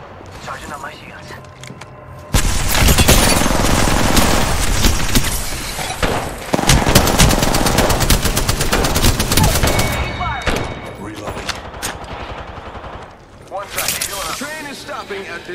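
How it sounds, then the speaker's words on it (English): Dense rapid gunfire from a sci-fi shooter video game fills most of the stretch, loud continuous bursts with brief pauses, while a voice talks over the action. "shots fired. And they're hitting me."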